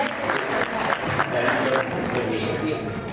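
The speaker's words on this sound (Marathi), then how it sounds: "एकदा जोरदार टाळ्या होऊन जाऊ द्या" Applause from a gathered audience honouring senior social worker Patusheth Dodhar at a felicitation ceremony, a steady, moderately loud clatter of clapping sustained for about three seconds with no clear talk over it.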